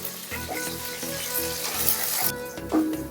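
Onions and green chillies fry in a pan on medium flame, a close, steady sizzle broken by repeated scraping stirs, with no voices.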